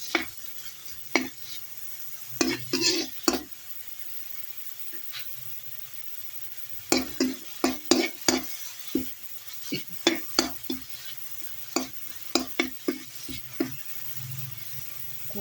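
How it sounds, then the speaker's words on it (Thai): Pounded spice paste dry-roasts in a pan, with sharp intermittent scrapes and taps of a spatula over a faint low hiss, the strokes irregular and close, with no voices. "เครื่องที่เฮาตำนะพี่น้อง เครื่องที่เฮาตำมะคั่วให้มันหอมก่อน"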